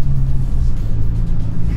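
A Toyota Hilux SRX Plus climbs a muddy slope, its engine a loud, close, steady low rumble throughout a short stretch with no talking.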